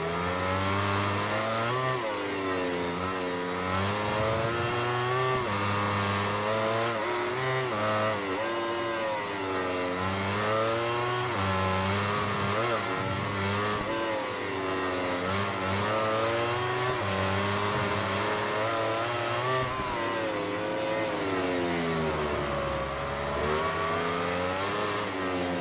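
Sustained roar of a racing motorcycle engine in MotoGP 17 at the Italian Grand Prix, its pitch rising and falling through gear changes and corners, loud and continuous for the whole stretch with no talk.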